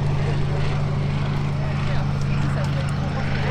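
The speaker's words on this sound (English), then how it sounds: "the General Dynamics, now Lockheed Martin, F-16 AM, Fighting Falcon. A faster run past this time, around 340 knots." An F-16 AM Fighting Falcon makes a fast run past the crowd at around 340 knots during the Yeovilton Air Day show, a steady loud jet roar under a commentator's voice.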